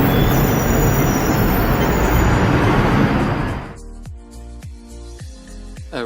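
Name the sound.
Hong Kong tram running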